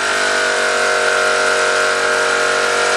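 A Wilesco D 222 model steam engine driving a Jensen generator makes a steady, dense mechanical whir with a constant hum, running evenly and fairly loud throughout without pause.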